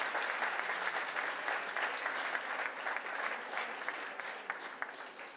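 Audience applause for a singer at a fashion show, steady, dense clapping from a crowd that fades slightly toward the end, with no voices over it.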